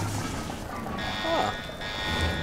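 An alarm blares in the shooter game Singularity, a steady high buzzing tone that starts partway through and holds over game ambience and background noise.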